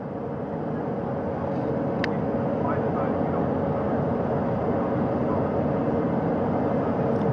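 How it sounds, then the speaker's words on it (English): A helicopter hovers over the ocean during the Artemis II crew recovery after splashdown, its steady rotor and engine roar filling the whole clip at a constant level, with a broad continuous rumble and no clear pauses. "That helicopter will now hover just a distance away"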